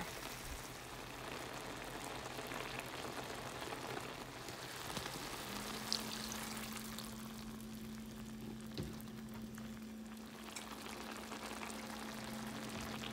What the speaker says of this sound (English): Just let it simmer until the chicken gets brown and cooked and tender.